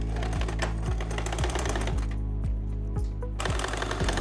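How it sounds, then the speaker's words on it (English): A sewing machine stitches around the waistband of linen pants, running in rapid mechanical bursts with a rhythmic clatter, briefly pausing then resuming, close and loud with no voices. "now I'm just going to sew, starting from here, up, around the waist, and up to the other side."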